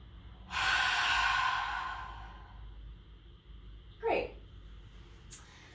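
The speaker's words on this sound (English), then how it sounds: "then the biggest breath you've taken all day" A deep, drawn-out breath taken during a seated yin yoga session, a broad airy rush lasting over a second that slowly fades, followed later by a shorter sharp exhale, close to the ear and alone.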